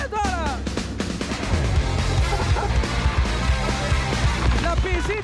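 A dog barks, yips and whimpers in short, repeated bursts, close and fairly loud over a noisy background with faint voices.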